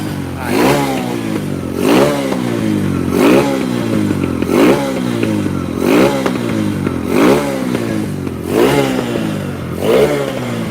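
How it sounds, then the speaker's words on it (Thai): A Honda NSF100 race motorcycle engine warms up, idling with a steady rough putter and repeated short revs rising and falling about once a second, loud and close. "วอร์มเครื่องครับ"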